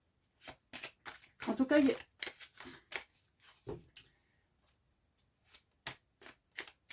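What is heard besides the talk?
handling tarot cards for a nine-card draw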